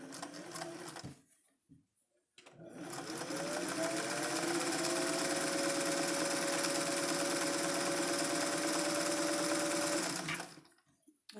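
A sewing machine runs a long stay stitch with a narrow seam allowance along the curved front edge and back collar of a vest, whirring steadily and close for about eight seconds after a brief start and pause.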